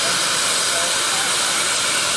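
A metal cutting tool grinds through welds on a steel welding test plate to remove the backing bar, a loud, steady, high-pitched hissing roar without pause, close up.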